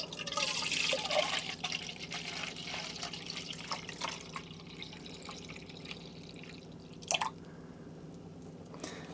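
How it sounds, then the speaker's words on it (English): Juice poured into a measuring jug, a bubbly, splashing liquid stream with small drips and squishy gurgles, close and fairly loud at first then thinning toward the end, with no talk. "So I'm just gonna pour the juice."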